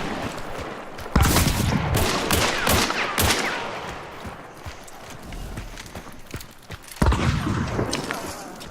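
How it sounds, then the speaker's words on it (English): Shotgun blasts in the video game Hunt: Showdown, two sharp loud booms several seconds apart, each trailing off into a rumbling tail over continuous background game noise and scuffling. "Shotgun."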